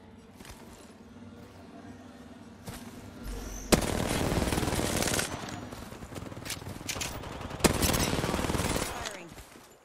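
R-99 submachine gun in Apex Legends firing in rapid sustained bursts, two long loud automatic volleys after a quieter stretch with faint background noise.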